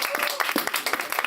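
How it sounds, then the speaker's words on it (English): Studio comedy-show audience clapping and cheering for a comedian named Jeremiah in a crowd-vote contest, a dense burst of applause with scattered shouts, fairly loud and close, with no talking over it. "Okay, and then make some noise if you want Jeremiah to win."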